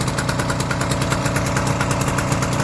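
An old Stuart Turner boat engine runs steadily, pumping water, its fast regular chug close and loud with an even rhythmic thump throughout.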